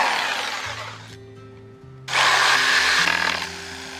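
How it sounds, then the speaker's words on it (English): A reciprocating saw cuts a wood piece to length: a loud buzzing, rasping power-tool drone that dips briefly, then resumes harder and stronger to the end. "Now I'm cutting it to length with my reciprocating saw."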